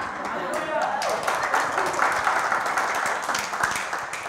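An audience at a church devotion event applauds with steady, continuous clapping while a voice speaks over it.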